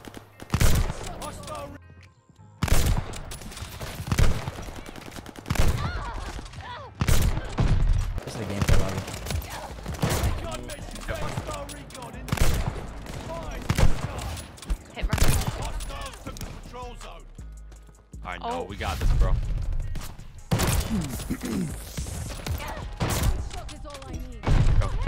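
Kar98k bolt-action rifle shots in a first-person shooter game, loud sharp cracks repeating throughout amid a dense mix of other gunfire, impacts and game noise with no pauses of silence.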